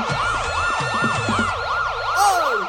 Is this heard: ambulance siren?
yes